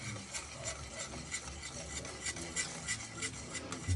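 A whisk scrapes steadily around a bowl of dairy-free caramel sauce ingredients with a pinch of salt, a soft continuous rasping with faint rhythmic strokes, close and quiet, with no voices.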